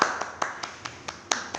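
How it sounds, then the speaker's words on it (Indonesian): Students clap hands in a classroom, about eight sharp, evenly spaced claps, fairly faint and close together. "Boleh tepuk tangan dulu."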